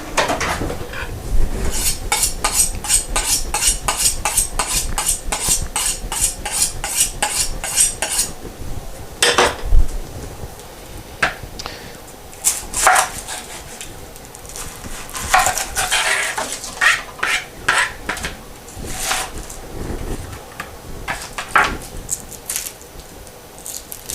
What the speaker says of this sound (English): I'm gonna chop up this onion as quickly as possible.